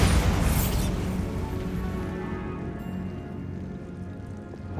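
Bombarda blasting spell in Hogwarts Legacy, a loud, close booming explosion that hits at once and then rumbles and fades over several seconds.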